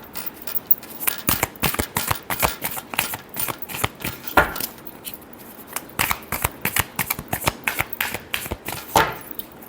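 Tarot cards being shuffled by hand: a close, continuous run of crisp riffling and slapping card flicks in irregular bursts, loud and dry with no other sounds.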